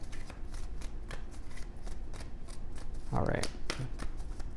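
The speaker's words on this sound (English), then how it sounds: "Let's pull some additional cards here." A deck of oracle cards is riffled and shuffled up close, producing a short, bright flurry of fluttering slaps, with a voice speaking briefly near the start.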